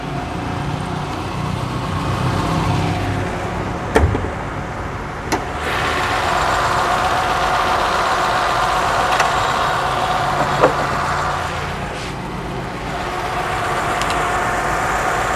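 The engine of an old Toyota Camry, a 3S 1.9-litre fuel-injected unit, idles with the hood open, a steady, close, fairly loud hum with a few faint clicks and knocks and no talking.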